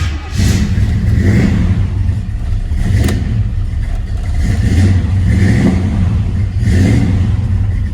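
A nearby 1971 Chevelle Super Sport clone's engine starts and runs rough and loud, revving up and down repeatedly in a pulsing rhythm with no voices.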